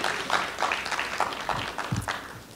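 Scattered applause from a small audience at a school committee meeting, a few seconds of loose, uneven clapping with faint background murmur.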